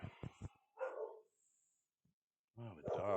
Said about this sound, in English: Oh, the dog with the barking.